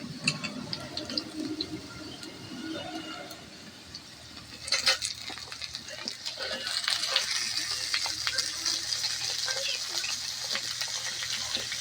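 Pumpkin pieces go into a pan of oil where potatoes were just fried red for khichuri, and a steady sizzling hiss swells after a few seconds, with scattered clinks and scrapes of stirring close by.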